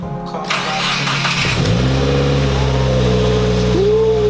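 A Subaru WRX with an aftermarket downpipe cranks and fires up, settling into a loud, steady idle rumble close by, with a brief rise in pitch near the end.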